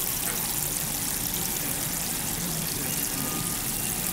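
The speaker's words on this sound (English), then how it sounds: "we are going to turn the faucet on," Water pours steadily from a turned-on faucet, a continuous broadband rush that holds at the same level for the whole stretch with no talking over it.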